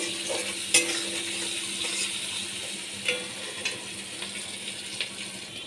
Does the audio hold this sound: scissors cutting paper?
no